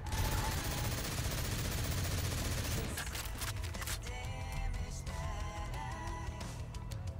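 G36 rifle fire in a Call of Duty custom zombies co-op game rattles in rapid automatic bursts, dense at first then breaking into sharper separate shots with clinking mechanical effects, fairly loud.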